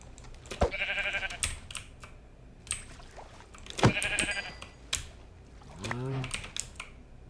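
Rapid keyboard clicking runs alongside a few Minecraft sheep bleats, the clearest one near the end, with a voice speaking over it.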